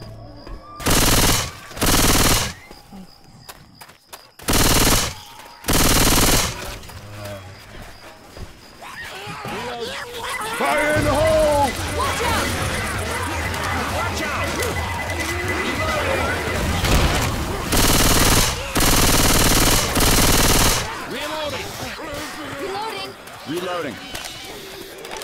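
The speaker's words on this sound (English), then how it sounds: "Hey, Nick, that was my ass you shot." Gunfire in Left 4 Dead 2, with several loud, close bursts of shots in quick clusters at the start and end, and busy game noise and voices in between.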